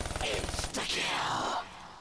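Rapid gunfire from a Pack-a-Punch weapon mows down zombies in a zombies video game, a fast stuttering burst up front giving way to a dense, continuous wash of game noise and effects.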